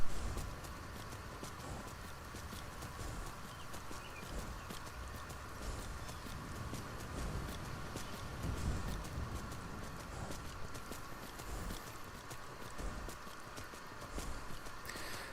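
Horse in Skyrim (Dawnguard), hooves clip-clopping steadily as it climbs a slope, a continuous rhythmic patter over dense game ambience, fairly faint with no talk.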